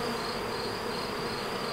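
Honey bees buzz steadily around an open hive frame that holds a little nectar, a close, dense drone with no pauses and no talk over it.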